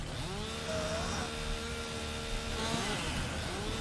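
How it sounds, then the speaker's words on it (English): Chainsaw engine in Farming Simulator 2019 cutting trees during logging work, droning steadily and loudly with rising and falling revs throughout, alone without talk. "The sounds of the chainsaws in this game is not something that will literally rock you to sleep,"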